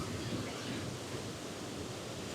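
Water rushes steadily over the Devils Glen waterfall in a wooded valley, a dense, unbroken roar that stays loud and close throughout.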